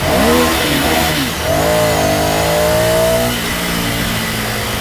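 Ducati Scrambler Sixty2 motorcycle with a short, minimalist exhaust revving inside a tunnel, loud and close, its engine note rising and echoing off the walls, easing briefly before climbing again.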